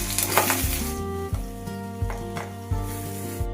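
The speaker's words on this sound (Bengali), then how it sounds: "এবার আমি এক এক করে মাছগুলো হালকা করে ভেজে নেব" Boal fish pieces frying lightly in hot oil, one by one, for a mustard boal curry: a steady sizzle running beneath louder tonal background music with changing notes.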